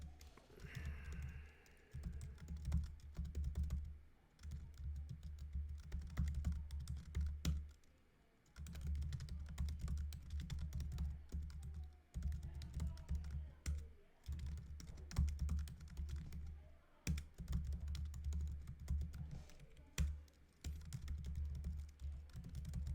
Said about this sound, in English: let's type this code in here.